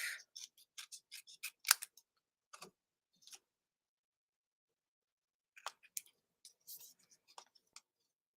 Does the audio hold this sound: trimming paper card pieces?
yes